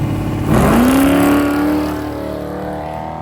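Eric Husted's 38 King Racing off-road race machine, the number-one qualifier, launches hard off the start line in a desert race, its engine roaring up loud and close in a rising revving sweep before settling into a sustained drone.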